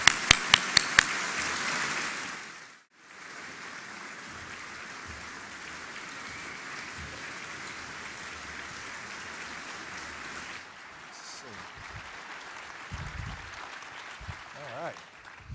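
Audience applause welcoming Dr. Henry Kissinger, a broad steady wash of clapping from a large crowd that carries on for most of the stretch after a few sharp early claps and a brief gap, with some faint voices near the end.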